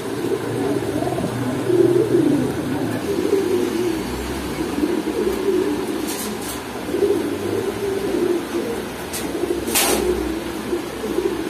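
Pigeons at a pigeon shop in Kaptan Bazar cooing in a low rolling chorus, steady and fairly loud, with occasional sharp clicks and background clatter.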